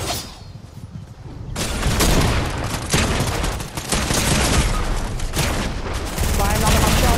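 Dense, sustained gunfire fills a Fortnite match, bursts of shots hammering on loudly and almost without pause, with players talking over the rapid shooting.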